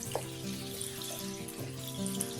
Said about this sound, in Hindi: अब आपने इसमें बोनलेस चिकन डालना है।